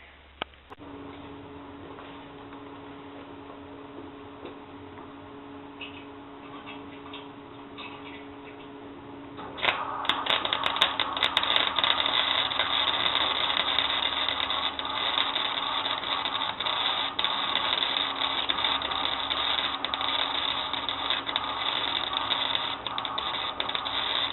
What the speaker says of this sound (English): And now we just got to do some welding.